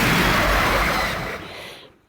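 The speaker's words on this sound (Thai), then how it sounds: "ระเบิดอย่างสวย" A loud, broad explosion from the Ultraman Nexus tokusatsu series, a heavy rumbling blast that holds briefly and then fades out over about two seconds.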